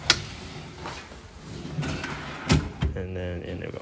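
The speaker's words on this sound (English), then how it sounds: "Now just slide in the slide rail on both sides." Drawer slide rail being pushed in on both sides during installation of a UT18 unit, giving a few sharp clicks and knocks around the middle and a rattling slide near the end, with a voice speaking through it.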